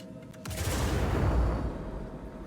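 A salvo of missiles launching in Star Citizen, a brief sharp onset followed by a loud, broad rushing roar that swells and then fades over about two seconds, with no talk.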